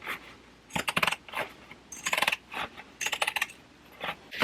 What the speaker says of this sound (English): I'm going to grab my pinking shears and I'm just going to give this a little trim